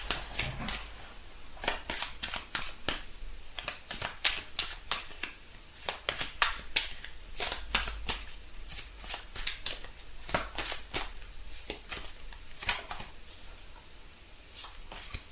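Tarot cards shuffled and drawn by hand: rapid papery riffles and flicks in irregular bursts, close and fairly soft, continuing steadily with no talking.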